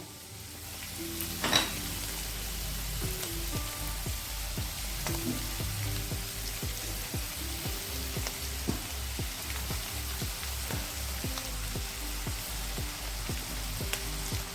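Rice with paneer is stir-fried in a pan for mixed fried rice: a constant close sizzle with repeated scraping spatula strokes in an even rhythm throughout.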